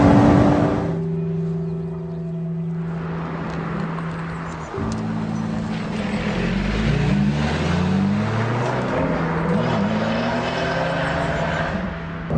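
A Lotus Exige S sports car drives on a public road, its engine note rising and falling through gear changes with climbing revs, loud and close from inside the car, with steady road roar beneath and no talk.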